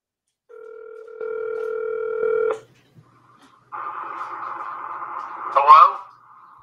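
Phone call placed to a property owner: a steady dial tone with dialing beeps, then a brief gap and a ringback tone with a click as the line connects, clear and close.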